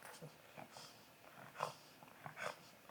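An old dog growls softly up close, low rumbling breaths and snorts in short uneven bursts, with faint background voices.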